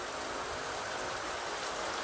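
Steady rain falls close by, a dense continuous hiss of drops pattering on surfaces with no voices over it.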